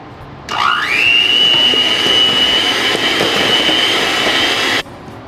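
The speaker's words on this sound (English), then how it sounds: "Now we're gonna mix the batter nice and thick." An electric mixer beats thick pumpkin cream cheese muffin batter, starting with a rising whine into a steady loud hum for about four seconds before cutting off abruptly.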